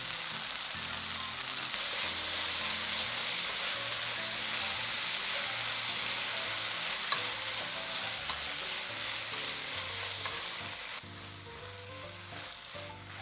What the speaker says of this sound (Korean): 가지에 양념장을 붓고 중약불로 3분 정도 양념이 잘 배도록 볶아주세요.